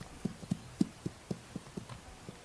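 Hooves of wild horses from the Pryor Mountain Wild Horse Range clip-clop at a walking pace, a dozen or so soft, evenly spaced thuds heard alone and fairly close.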